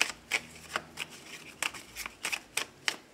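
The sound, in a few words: tarot cards being shuffled and cut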